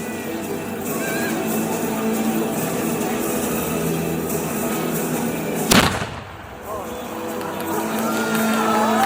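One loud gunshot cracks out over the noise of an outdoor crowd and murmuring voices at an international knights' tournament at Łęczyca Royal Castle, Poland, followed by a brief hush.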